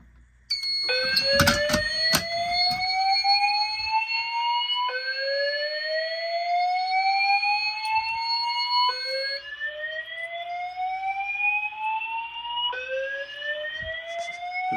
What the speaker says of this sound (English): I wonder what happens if I activate the fire alarm system while that's silenced